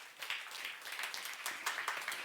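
A church congregation applauds during a sermon, a faint but steady patter of many hands clapping at once, heard distantly and evenly throughout.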